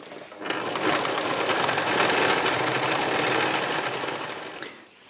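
Sewing machine doing free machine embroidery, a loud, close, continuous whirring run of several seconds that starts abruptly and winds down at the end.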